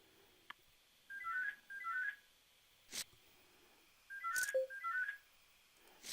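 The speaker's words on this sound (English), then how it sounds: "My phone is ringing." A phone ringtone plays two short bursts of repeated melodic chirps, a pause, then two more, moderately loud and clear, with faint clicks between, at a poker table.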